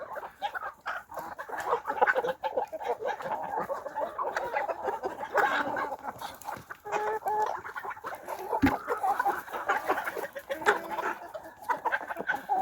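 Several chickens cluck and chatter continuously nearby, a busy overlapping flock sound with occasional sharper calls.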